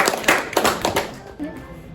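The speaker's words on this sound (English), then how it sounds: "Give him a round of applause." A few sharp hand claps in a quick, uneven burst from a sixth-grade class, close and fairly loud, fading into quiet background noise.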